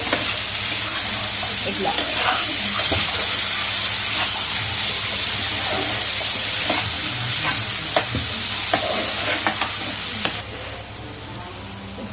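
Finely chopped onion and tomato stirred together in a frying pan for an egg omelette curry, a constant sizzle with repeated spatula scrapes and taps, a brief word spoken, the frying quieting near the end.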